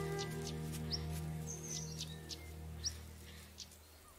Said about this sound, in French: ce tarier pâtre a décidé d'élire domicile dans un arbuste épineux sur la côte méditerranéenne du Maroc